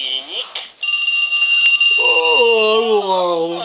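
A toy alarm clock rings in a children's superhero play scene, a steady bright electronic tone sounding continuously for several seconds while a high, sing-song voice talks over it.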